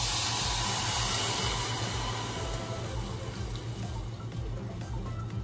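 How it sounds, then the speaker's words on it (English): Vegetable broth pours into a pan of browned couscous with a steady loud hissing rush of liquid and a faint low rumble beneath it, unbroken throughout. "we're going to throw in 2 cups of vegetable broth"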